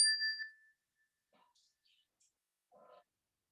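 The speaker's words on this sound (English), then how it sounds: "As we listen to the chime" A meditation chime rings once, bright and clear, decaying quickly into near silence, followed by faint scattered soft sounds.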